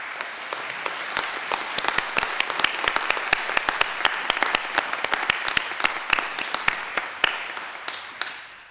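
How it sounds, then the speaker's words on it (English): A graduation audience in a university auditorium in Coleraine gives a sustained round of applause, dense clapping from many hands, loud and steady throughout before tapering at the end. "our graduating class of 2023 do owe everyone on this side of the auditorium a massive round of applause"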